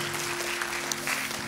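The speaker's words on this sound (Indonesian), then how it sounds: "Yang setuju dan sepakat berikan tepuk tangan buat Tuhan kita." Applause from a church congregation in Jakarta, clapping for God during a sermon, steady and moderately close with a faint sustained tone beneath.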